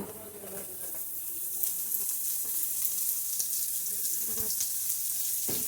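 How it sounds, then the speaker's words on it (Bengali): Rice with grated coconut frying in a pan for a vegetarian pointed gourd dish, giving a steady soft sizzle with light stirring scrapes, close and fairly quiet, with no talk. "নারকেলটার সাথে চালটা একটু ভাজা হয়ে নেবে, নারকেলটাও তার সাথে একদম ভেজে নেব।"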